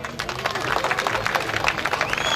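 Audience applause breaks out at a lively women's dance competition event, a short burst of dense, fairly loud clapping from a crowd with some voices mixed in.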